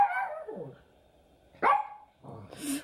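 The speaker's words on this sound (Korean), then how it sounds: "아이고, 안 짖는 애가 왜 짖어?" A normally quiet house dog barks indoors, facing the door: two sharp, close barks separated by a pause, followed by a softer whimpering yip.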